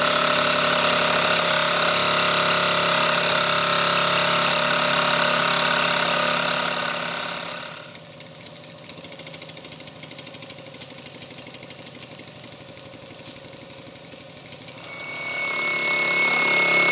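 A small Mamod model steam engine runs flat out with a steady, loud hissing whir, briefly dropping to a quieter chuffing hum before speeding up again.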